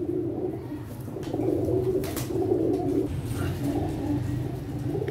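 Teddy pigeons cooing close by, a steady series of low, soft rolling coos repeating throughout, with a faint rustle or click in the background and no talk.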